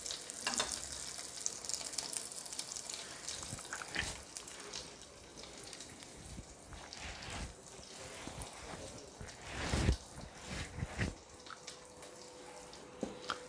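Burger patty frying in a pan, a soft continuous sizzle with scattered pops and clatter, fairly faint and close.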